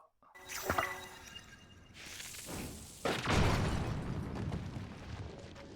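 A bomb exploding in the video game Zelda Tears of the Kingdom: a sharp pop, then a swelling whoosh and a loud blast followed by a lingering rumble and debris.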